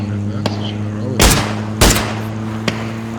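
Gunfire in a video game: a few sharp shots and two heavy blasts punctuate a low steady hum, loud and close, with no talk during the shots.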